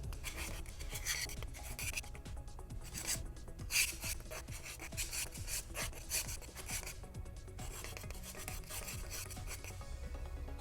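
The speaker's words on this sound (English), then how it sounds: "I just use my finest sanding stick and just take off any, just kind of hit the sharp edges with it." A fine sanding stick smooths sharp edges on aluminum armor plate, giving quick rasping strokes in an uneven, close-up rhythm with short pauses between passes.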